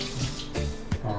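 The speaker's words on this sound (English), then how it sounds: "I'm going to rinse it under the sink" Water running from a sink tap while an egg is rinsed under it, a close steady splashing rush broken by brief bumps from the egg moving in the stream.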